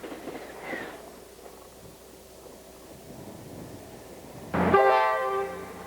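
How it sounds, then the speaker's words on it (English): A fast turbo train passes at a distance, a faint low rumble building before a loud, brief horn blast sounds near the end and trails off. "This is a fast turbo train."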